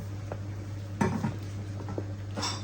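A spoon stirs sago in a cooking pot for bilo bilo, giving soft scraping and clinking strokes over a steady low hum and faint bubbling.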